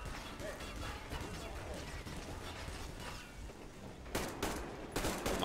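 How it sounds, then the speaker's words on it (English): Gunfire in the video game Metro Exodus, a rattling fusillade of shots with mechanical clatter, sharpening into louder bursts near the end, with people talking over it. "Who's shooting?"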